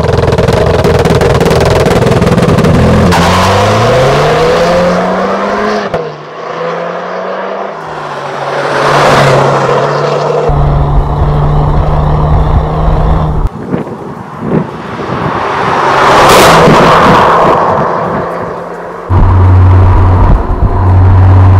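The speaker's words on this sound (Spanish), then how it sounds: "Apretamos las dos levas a la vez para activar el modo Launch Control" A Renault Clio RS Trophy launches hard under launch control, its engine note climbing and dropping sharply at each gear shift, loud and close, with a rising whine and pops between pulls.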